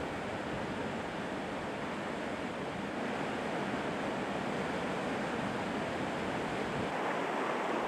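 Continuous roaring rush of a mountain stream falling as a waterfall through narrow rock passages in the Altai, loud and steady throughout, with no voices or other distinct sounds.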